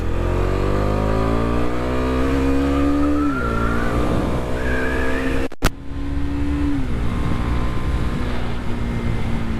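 A car engine still in its break-in period climbs steadily in pitch under acceleration, eases off, then pulls again, heard from close by without talking.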